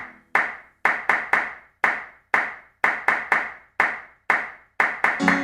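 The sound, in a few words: hands clapping five times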